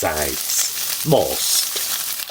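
Tofu pieces fry in a pan and are tossed around to brown on all sides: a steady close sizzle with bursts of shuffling as the pan moves, and brief voice-like sounds over it.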